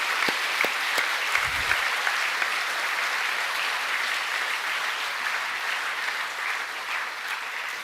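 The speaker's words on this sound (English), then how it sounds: "Could you please join me in congratulating them with a round of applause?" A school assembly crowd gives a sustained round of applause, a thick, even patter of many hands heard alone, with a few soft low thumps near the start.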